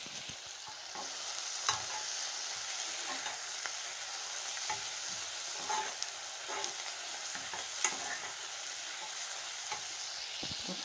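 Paprika fries with onions in a pan for onion soup, a steady close sizzle with intermittent stirring scrapes and utensil taps throughout, no voices.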